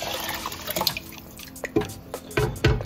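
Water is added to a cooking pot while making chicken biryani, heard as close irregular splashes and drips that grow heavier toward the end.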